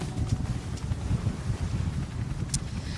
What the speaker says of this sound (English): the wind is pumping down here in Auckland, around 28 kilometres per hour, gusting well over 36 kilometres per hour